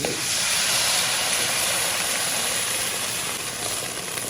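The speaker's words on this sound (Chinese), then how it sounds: "炒出酸菜的香味以后，我们现在呢加入清水" Water poured into a hot wok of fried pickled cabbage and spices bursts into a loud, steady steaming hiss that fills the whole moment, broad and rushing without pause, easing only slightly toward the end.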